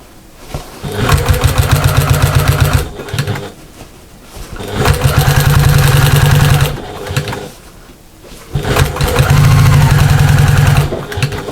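Sewing machine stitching fabric pieces together for a small backpack: three loud, fast runs of rapid mechanical whirring and needle chatter, each lasting a few seconds, separated by short pauses.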